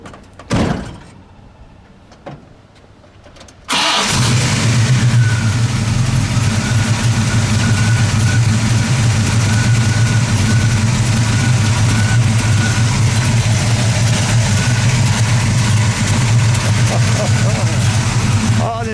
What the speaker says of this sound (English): let's fire it for a moment